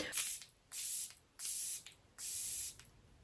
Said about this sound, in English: I think it qualifies as a great sprayer, doesn't it?